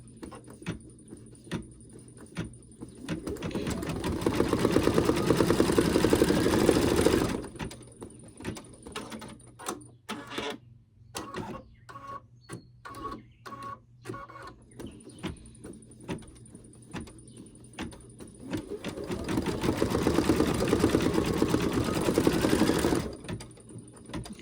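An embroidery machine stitches out an in-the-hoop thank you card with gold thread, its rapid mechanical chatter coming in long loud bursts, broken by a stretch of sparse clicks and ratcheting thread trims between colours.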